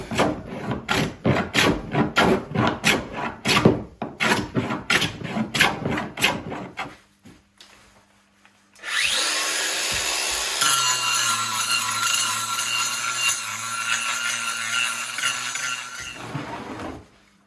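A wooden guitar top being carved, first with rapid, rhythmic scraping strokes of a hand tool, then after a brief pause a loud steady power tool whine that drones on before cutting off.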